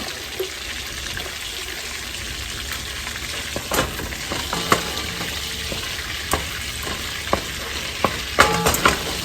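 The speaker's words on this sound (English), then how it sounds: "So this is just bacon grease and butter. So we're going to throw in 1 bag of corn." Frozen corn fries in bacon grease and butter, a steady hiss and crackle with scattered pops and clicks growing busier toward the end, close and unaccompanied by speech.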